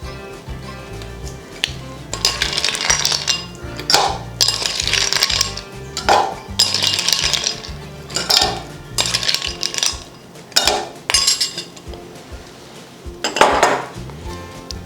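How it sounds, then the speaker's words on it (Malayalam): Ice cubes are dropped into a glass of homemade juice, giving a series of sharp clinks and rattles in irregular bursts, close and fairly loud, with no talking. "ഇനി ഇതിൻ്റെ അകത്തേക്ക് നമുക്ക് ആവശ്യത്തിന് ഐസ് ഇട്ട് കൊടുക്കാം."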